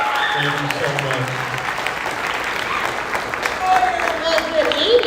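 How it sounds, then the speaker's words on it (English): A crowd applauds at a ninth-grade family orientation for the class of 2026, producing a sustained wash of clapping that swells near the end while voices talk and call out over it. "A big round of applause for Miss Blunt."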